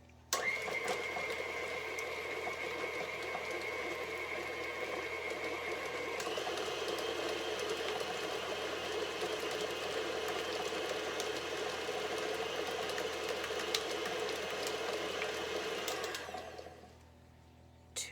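An electric mixer creams butter until almost white, its steady motor whir running continuously for about sixteen seconds, shifting pitch slightly midway as the speed changes, then cutting off, with no talking.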